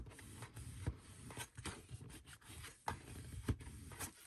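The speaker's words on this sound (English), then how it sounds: "on that outer inch piece, I'm going to fold that in and then just burnish that down and make sure that it's nice and flat" Folded paper craft edge being burnished flat by hand for a calendar box: short, dry rubbing and scraping strokes in an irregular rhythm, close and fairly quiet.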